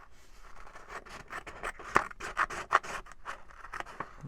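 Scissors trim the last sheet of paper in a run of quick crisp snips and scratchy rubbing strokes, close and fairly quiet, with no talking.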